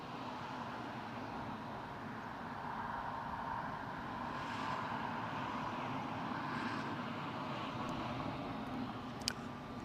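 An ATR turboprop airliner at Newcastle airport makes a faint, distant, steady engine drone that holds evenly throughout, with a single small click near the end.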